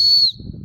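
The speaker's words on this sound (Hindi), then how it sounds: "ये सीटी बजाओगे ना तो जंगल में बहुत दूर तक सुनाई देता है" A backpack strap safety whistle gives one short, shrill, piercing blast, very close and loud, then cuts off into faint background noise.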